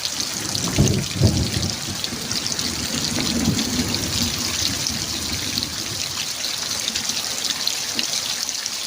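Heavy rain pours down in a steady, dense hiss with close spattering drops, and a couple of low thumps early on.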